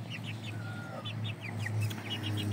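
Chickens in a backyard coop cluck in short repeated bursts over steady low background noise, with a few bird chirps mixed in.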